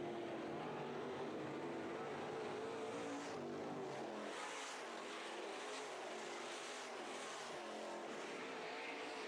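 Modified race cars roar down the back straightaway of a dirt oval toward turns 3 and 4, a loud, continuous wash of engine noise with shifting pitch as the pack passes, no voices.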